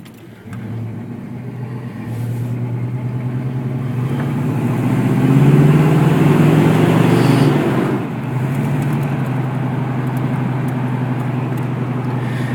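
The engine of a 1980 Pontiac Trans Am with an automatic transmission idles with a steady low rumble, then revs up and swells louder near the middle before settling back to a loud, even idle, with no talk.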